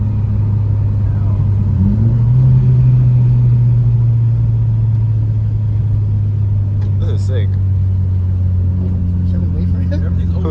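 A 2JZ-swapped Jaguar on stock suspension drives through canyons. Its engine holds a steady low drone the whole time and climbs in pitch around two seconds in as it pulls. Occasional voices talk over the engine.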